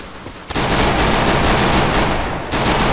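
Rapid automatic gunfire in the mobile battle-royale game Free Fire, a loud sustained burst of shots after a brief quieter lead-in, dipping briefly near the end before resuming.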